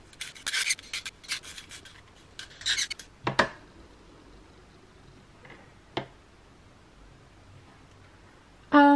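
A Blackwing 602 pencil is turned in a handheld bladed sharpener, making several close, dry, raspy shaving bursts in quick bursts over the first few seconds, then a few isolated ticks and clicks in quiet.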